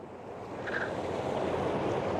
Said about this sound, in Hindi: और ये रही भाई ऋषिगंगा नदी, कितना साफ पानी आ रहा है, एकदम साफ।